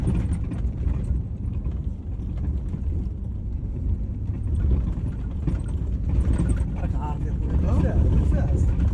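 A jeep drives on a road toward the Sahara desert in Morocco, its engine and tyre rumble a steady, loud, low roar throughout, with people talking over it.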